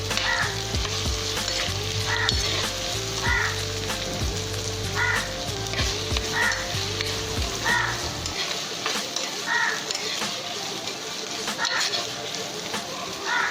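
Onions and curry leaves fry in oil in a clay pot for a Chettinad chicken gravy, giving a steady, close, dense sizzle with some stirring. A low rumbling hum runs under the first eight seconds and then drops away.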